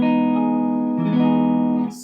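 A barre chord strummed once on guitar for a song, ringing sustained and close, with a brief shift in the voicing midway before it cuts off.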